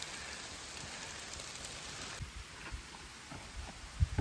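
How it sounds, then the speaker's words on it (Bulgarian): Steady rain hisses over a forest eco-trail as a dense, even wash of sound, with occasional nearby drips and taps standing out. "само как вали"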